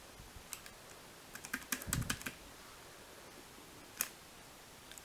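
Keys tapped on a small Asus EeePC touchscreen laptop keyboard, with sparse, quiet clicks that bunch into a short burst of rapid strokes, a lone tap later and near silence between.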